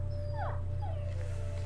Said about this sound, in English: Uh-oh, I hear the dog whimpering.